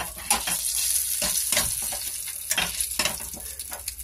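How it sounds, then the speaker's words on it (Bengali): Dried fenugreek leaves (kasuri methi) fry briefly in hot oil in a pan, a close crackling sizzle broken by several sharp stirring scrapes, no talking. "তেলের মধ্যে দিয়ে দেবো একটু কাস্তুরি মেথি। কাস্তুরি মেথিটা একটুখানি ভাজা হয়ে যায়।"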